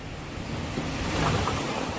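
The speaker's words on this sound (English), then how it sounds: "Woo, windy." Wind rushes across the microphone in a steady roaring gust, buffeting and close, with no voices.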